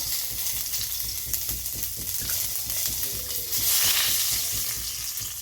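Bay leaf and whole cumin sizzle steadily in hot oil in a home kitchen pan where fish was just fried, a loud continuous frying hiss broken by regular stirring scrapes throughout.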